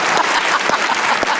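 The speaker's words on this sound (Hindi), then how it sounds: "तालियां होनी चाहिए" Loud, dense applause from a talk-show studio audience fills the whole moment, with many hands clapping steadily and close, and no voices over it.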